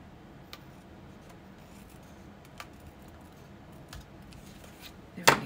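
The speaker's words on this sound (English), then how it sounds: "Let me trim this off." Scissors snip through paper while trimming an ornament to length, a soft quiet cut followed by a few faint ticks and rubs, ending with a sharper closer snip.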